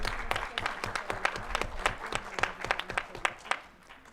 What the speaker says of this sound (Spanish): pido un aplauso para él nuevamente y para nuestros expositores presentes, por favor.